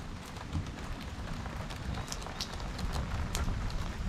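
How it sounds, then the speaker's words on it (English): Rain falls outside at night ahead of forecast thunderstorms, a steady close wash of patter with scattered sharper drips, continuous and fairly loud. "Can you see the rain?"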